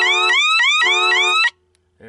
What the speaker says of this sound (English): I might unhook that annoying siren, but I have it hooked up just as a kind of a reference.